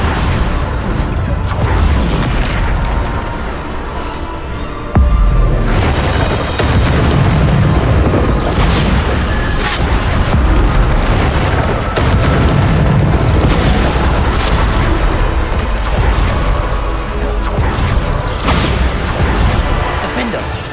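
Repeated Bombarda spell blasts from a Hogwarts Legacy PC fight build into loud, booming explosions and crashes over dense, continuous game action. A voice calls out spell names throughout.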